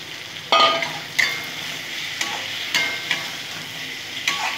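Steady sizzle of goat liver and potatoes frying with spices in a pan, broken by several sharp scraping stirs and clinks of a spoon against the pan.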